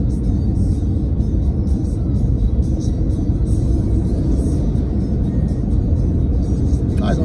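A car driving through a very long road tunnel between Sanremo and Nice, with a dense, steady low roar of engine and road noise echoing around the cabin, constant and loud throughout.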